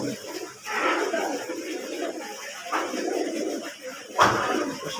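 Pigeons of a kept loft breed coo on a rooftop in a steady, close-up murmur of overlapping calls with a few louder bursts, and no clear talk.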